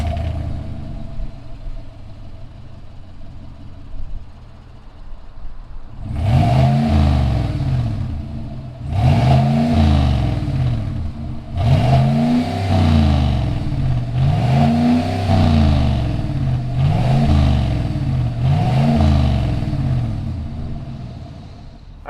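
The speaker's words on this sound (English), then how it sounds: "let's go ahead, fire up this 2020 Eclipse and see what it sounds like" A lifted 2020 Sherrod Eclipse Chevy Silverado RST engine idles with a low rumble, then gives six strong, evenly spaced revs, each swelling loud and dropping back, close by with no talk.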